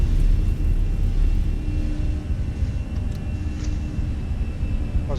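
An airliner's engines roar during the takeoff roll out of Valencia, a steady loud low rumble that holds throughout, easing slightly partway and then staying level, with no voices over it.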